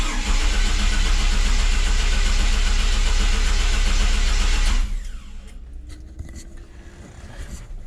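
A GM 292 inline-six, an old C10 pickup engine, cranks loudly on a high-torque starter for about five seconds in a steady churning rhythm, then drops away abruptly to quieter mechanical noise.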